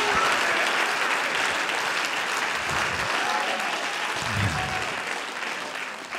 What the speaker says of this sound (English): Would you clap your hands unto the Lord?